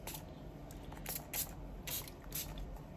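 Several short hissing bursts of a pearl spray paint can over an abstract flower painting, each about a second apart, fairly close, over a steady low background hum.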